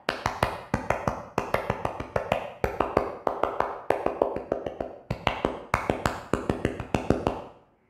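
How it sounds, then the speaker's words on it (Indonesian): A scout performs the Pramuka clap rhythm three times, crisp close hand claps in quick patterned bursts with brief pauses between sets, alone and clear for about eight seconds. "3 kali tepuk pramuka."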